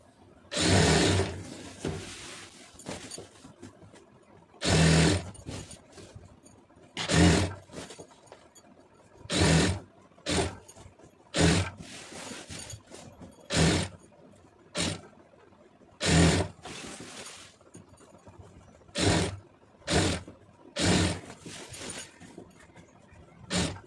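Sewing machine stitching a fall onto a saree, running in short repeated bursts of whirring stitches separated by brief pauses, close and clear with no talking.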